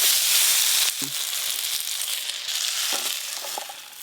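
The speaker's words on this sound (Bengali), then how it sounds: "আলু আর বেগুন ভালো করে ভাজা হয়ে গেছে, এবার তুলে নেব" Potatoes and eggplant fry in oil in a pan, giving a steady bright sizzle that runs throughout, with a few soft utensil clicks and stirring knocks near the start and again toward the end.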